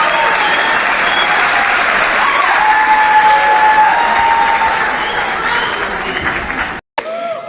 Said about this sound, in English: Family and friends, please give these Sigma members a round of applause